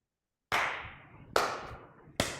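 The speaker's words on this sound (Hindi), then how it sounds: "इसके लिए मैं ताली बजाऊंगा।" Three sharp hand claps from a teacher in a classroom, each ringing out with a short echo. The claps are evenly spaced, loud and close, after a moment of silence.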